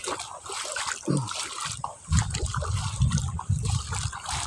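Shallow, low-running water of the Davao River trickling and splashing in a small stream, with soft uneven sloshes and dribbles up close and no speech heard.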